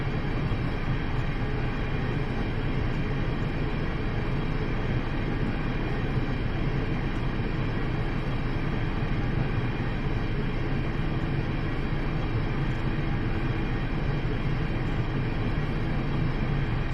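A Class 175 diesel multiple unit in Train Simulator, running the Manchester to Carmarthen service, gives a steady, loud engine drone and rolling rumble that continues unbroken throughout with no voices.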